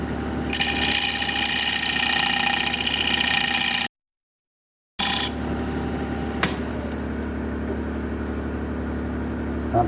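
A wood lathe spins a square wooden bowl as a 1/4 inch bowl gouge cuts it, giving a steady scraping rasp over the motor hum. The sound cuts out briefly, then resumes as a quieter cut.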